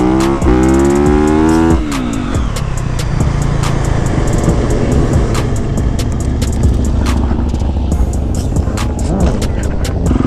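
Motorbikes rev hard during burnouts and stoppies at a crowded bike gathering, a loud engine climbing in pitch at the start, then a sustained roaring, rasping drone with sharp bursts throughout.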